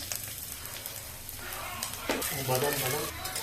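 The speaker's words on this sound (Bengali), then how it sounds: "এরপরে রসুন কুচি আদা কুচি দিয়ে ভালো করে এটা ভেজে নেব।" Chopped garlic and ginger fry in white oil in a wok, a soft crackling sizzle with a few brief clicks and clatters near the end.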